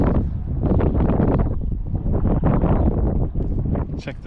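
Wind buffets the microphone at an estuary fishing spot, a loud, continuous roaring rumble with gusting swells and no pauses.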